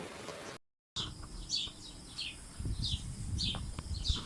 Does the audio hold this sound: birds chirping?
yes